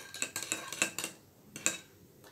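A spoon stirs a homemade hair mask mixture in a bowl, giving faint, quick clinks and taps in an uneven rhythm, close by and alone.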